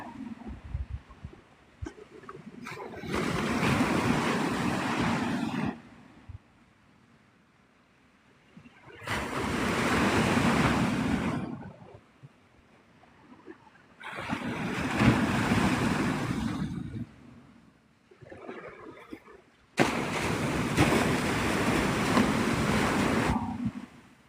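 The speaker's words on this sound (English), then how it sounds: "Do you guys hear how loud the waves are?" Loud ocean waves break on Navarre Beach, Florida, at sunrise, with four long surging roars of surf rising and falling between quieter lulls, buffeted by wind noise.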